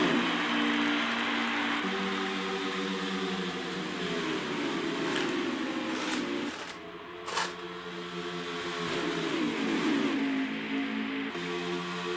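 Race cars in an SCRL Hurricane Xfinity Series race at Atlanta Motor Speedway drone steadily, engines holding a continuous pitch-shifting roar at moderate distance, with one brief dip partway through.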